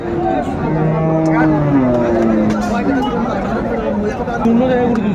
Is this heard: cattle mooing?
yes